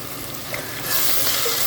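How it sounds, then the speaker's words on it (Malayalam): Onions frying with salt in a pan for an egg masala, a steady close hiss and sizzle that swells louder partway through, with no talking. "അപ്പോൾ നമ്മളെ ഉള്ളി ഒന്ന് ഫ്രൈ ആയി വരട്ടെ"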